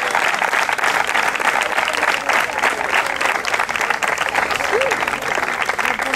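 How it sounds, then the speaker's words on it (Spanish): Crowd applause for the winners of a youth triathlon event in Hinojosa, steady and dense throughout at moderate loudness, with voices talking over it. "Fuerte aplauso para ellos."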